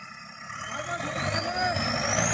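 Three tractor engines drone together and rise in pitch as they strain to pull a trolley stuck in a field, a steady mechanical roar growing louder, with voices faintly mixed in.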